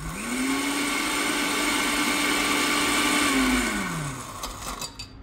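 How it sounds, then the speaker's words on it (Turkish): A Karaca Multiblend 1000 W smoothie blender whirs up to a loud steady motor whine as its blade spins freely on ice, then winds down, followed by a few clicks. "Videoda da canlı canlı gördüğünüz üzere bıçak boşa dönüyor."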